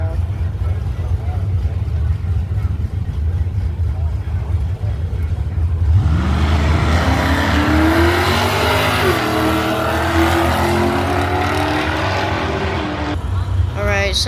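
Drag race between Pontiac or Buick cars, a loud idling rumble that suddenly erupts into a roaring launch with climbing revs and gear changes, close and powerful, with crowd noise and voices mixed in.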